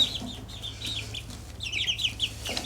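Pet chickens cluck and chirp nearby in a soft, steady chatter of short, rising calls that grows busier toward the end.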